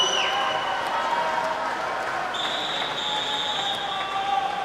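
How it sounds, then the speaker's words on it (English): Steady applause and cheering from a crowd at the 2019 New Zealand Short Course swimming championships, filling the pool hall for a swimmer who set a national record, with an announcer's voice and whistles or tones audible above it. "So let's give her a big round of applause"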